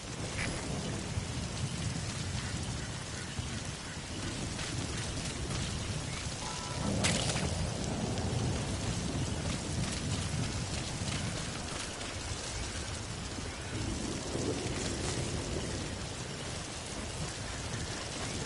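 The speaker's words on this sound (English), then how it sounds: "Sound of rainfall should help to mask your footsteps." Steady rain falls in a Metal Gear Solid V game scene, a dense continuous hiss with a low rumble swelling briefly midway, no voices over it.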